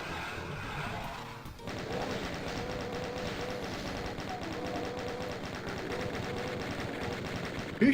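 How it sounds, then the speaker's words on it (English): Rapid, dense machine-gun style gunfire rattles continuously for several seconds in the video game Doom, loud and sustained after a brief quieter opening. "Who's shooting at me?"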